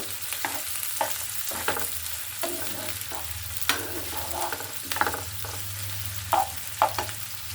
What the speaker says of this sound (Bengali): এখানে দিচ্ছি পেঁয়াজ কুড়ি এখন আমি এটা ভালো করে ভেজে নেব